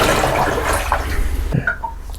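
Water poured out of a tray used for carbon transfer print developing, a close splashing rush that cuts off abruptly, followed by a few small trickles and drips.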